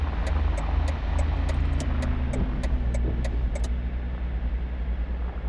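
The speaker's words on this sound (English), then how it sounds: "let me park my car here somewhere really quick" A car engine idles and creeps along at low speed while parking in City Car Driving, a steady low hum with faint rhythmic ticking on top and no talking.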